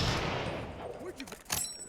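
Martini-Henry rifle fire in the Fallout London mod for Fallout 4, a dense muffled burst of booming shots with a rolling tail, followed by a sharper crack near the end.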